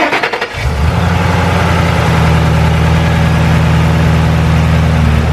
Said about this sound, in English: Does it seem to be idling fine?